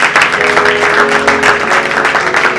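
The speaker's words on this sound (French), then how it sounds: "tu te mets et tu acclames le Seigneur" Church congregation applauding at a worship gathering, dense steady clapping with a sustained tone and voices mixed in, loud and close.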